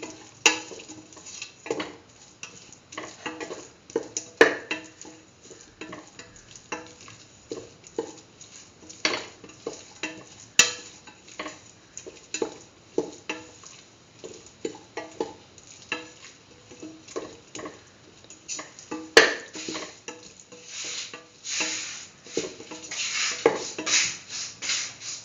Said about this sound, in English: thoroughly mixing the turmeric powder and the cumin powder, the rest of the mixture